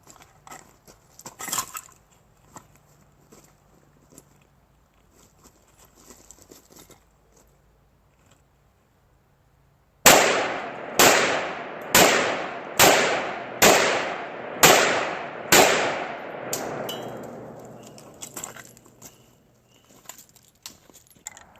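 Rifle gunshots from an AR-15 and AK-47 fired at barrels, heard as a rapid string of about nine loud, sharp cracks with ringing echoes, following a quiet stretch of faint background noise.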